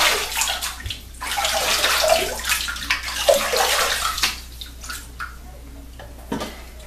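Tap water running steadily into a sink for shaving, a continuous splashing rush with faint drips and trickles, close by and fairly loud, fading somewhat toward the end.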